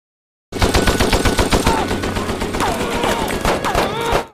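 Sustained automatic gunfire from an action war film roars in dense, rapid bursts that run almost without a break, loud and close, with a few whining ricochet-like sweeps over the top.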